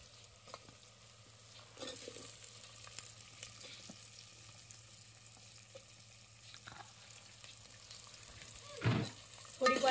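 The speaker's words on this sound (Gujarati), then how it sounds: "થોડીક વાર એને બટેટા ને કાંદા ને સાતડવા દેવાનું" Potatoes and onions with garlic sizzle quietly in a pan, a soft continuous frying hiss broken by occasional stirring scrapes and a couple of louder clatters near the end.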